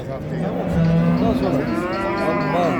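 A cow, a barren one among cattle at the Çorum livestock market, lets out a long, loud, close moo that wavers in pitch, over faint market background noise.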